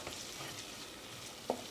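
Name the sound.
flour and oil roux cooking in a pan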